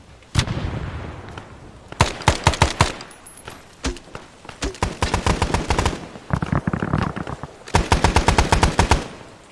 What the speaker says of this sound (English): Whoa, shots fired. You're shooting.